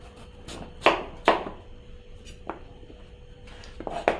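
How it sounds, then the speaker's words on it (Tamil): A knife slicing raw mango thinly for a Kerala mango curry: a handful of crisp, separate cuts and taps on a board, some louder than others, at an uneven pace over a faint hum. "இந்தளவுக்கு தின்னாக கட் பண்ணி போடணும்"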